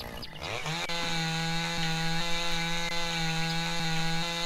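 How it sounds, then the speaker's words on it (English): Chainsaw in the logging game Lumberjack's Dynasty cutting into wood: a steady, loud motor whine with strong harmonics holds after a quick start, running alone with no talk. "We got a lot quicker now with chainsaw"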